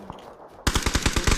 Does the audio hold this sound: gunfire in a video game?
yes